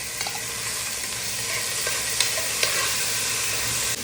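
Onion, tomato and carrot sautéing in a pan for aval upma, an even close sizzle with a few light spatula taps and stirring scrapes, no talking.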